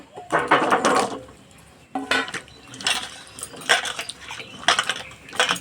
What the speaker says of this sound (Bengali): তো আলুগুলো প্রথমে আমি পরিষ্কার করে ধুয়ে নেব